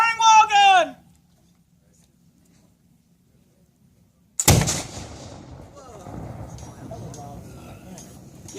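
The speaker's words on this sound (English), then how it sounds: "Firing wall gun!" A historic 75-pound swivel-mounted wall gun fires a single sharp, loud report at a fort artillery demonstration, followed by rumbling echo and crowd noise; a shouted command comes first, then a long quiet pause before the blast.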